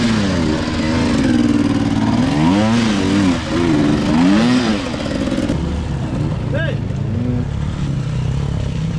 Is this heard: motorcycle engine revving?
yes